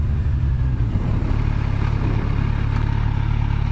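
A car with a smooth four-cylinder engine drones steadily and close, a dense low hum with faint mechanical clatter and no distinct revs, with no talking.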